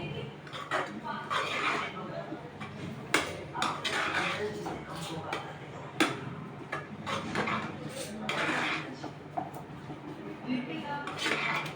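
Methi aloo, a Sindhi fenugreek-and-potato dish, stirred in a pan with frequent clinks and scrapes of a spoon against metal, fairly close, over a low kitchen hum.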